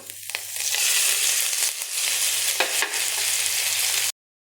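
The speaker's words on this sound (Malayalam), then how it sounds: "ഇതിലേക്ക് നമുക്ക് ചതച്ച് വെച്ച ഉള്ളിയും വേപ്പിൻ്റെ അരിയും കൂടിയിട്ട് ഇട്ട് കൊടുക്കാം" Crushed onion and curry leaves hit hot coconut oil and sizzle loudly, a bright steady crackle with a faint low hum beneath, ending abruptly in silence.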